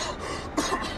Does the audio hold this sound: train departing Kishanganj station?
no